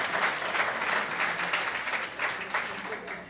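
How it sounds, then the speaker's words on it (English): Applause from a room of people welcoming first-time guests at a Kyani meeting in Calgary, a steady dense wash of clapping that carries at moderate level throughout and eases slightly toward the end. "Let's give the guests a round of applause."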